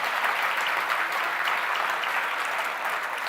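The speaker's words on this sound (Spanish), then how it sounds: "dale un aplauso al Señor." A church congregation gives steady, dense applause during a Christmas sermon, a continuous even wash of many hands clapping from start to finish.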